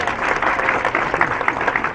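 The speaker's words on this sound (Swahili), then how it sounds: "Tujipigie makofi kwa sababu ya hapa." Audience applause at a Kenya Society for the Blind live-streamed event, a dense, steady patter of many hands clapping throughout at moderate loudness, with a few people talking underneath.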